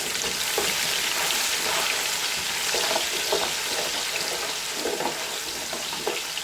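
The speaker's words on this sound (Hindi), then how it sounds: "इसको प्याज में फ्राई करते हैं ऑयल में" Cumin and onions fry in hot oil, a steady loud sizzle with occasional stirring scrapes and bursts throughout.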